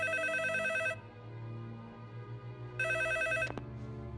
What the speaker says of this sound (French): Alors pourquoi le téléphone sonne?